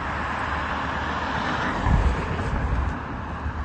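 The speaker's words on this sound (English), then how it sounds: "I'm starting to hear this plane right now." Propeller airplane flying nearby, a broad steady roar with wind noise that swells slightly partway through and stays constant without talk.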